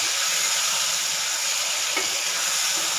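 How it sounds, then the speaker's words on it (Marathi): Ingredients being stirred in hot oil for restaurant-style smoked paneer angara, with no onion or garlic, giving a steady, dense sizzle and hiss close up, one brief scrape of the spoon partway through, and no voices. "तेल गरम असल्यामुळं खूप चितडे उडून जातात तेलाचे।"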